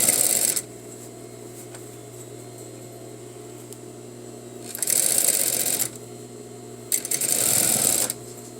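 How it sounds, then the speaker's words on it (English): Sewing machine stitching a facing seam near the shoulder, running in three bursts: a short one at the start, then two longer runs of steady whirring separated by quiet pauses, close and fairly loud. "I'm sewing close to the stitch, not the raw edge of the seam allowance"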